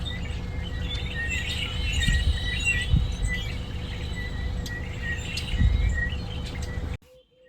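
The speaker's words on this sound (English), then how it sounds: "I'll just sit and listen to the chorus of red-winged blackbirds." A chorus of red-winged blackbirds sings outdoors, overlapping chirps and trills over steady background noise at moderate distance, which cuts off abruptly near the end.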